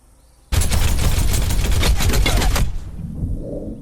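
D.Va fires her rapid guns at an armored Bastion in the Overwatch video game, a loud, dense stream of fast rattling shots lasting about two seconds that stops abruptly and leaves a fading rumble.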